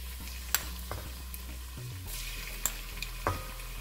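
Chopped onions fry in about half a cup of oil in a pan for kadhi gravy, giving a soft, low sizzle broken by a few sharp clinks and scrapes of stirring.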